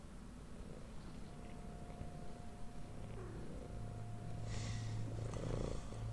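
A lynx kitten purrs softly in a quiet den. The purr is a faint, low, rhythmic rumble that grows a little stronger toward the end, with a few light breathy snorts mixed in.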